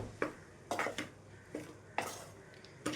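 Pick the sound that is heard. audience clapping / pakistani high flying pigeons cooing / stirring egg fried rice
stirring egg fried rice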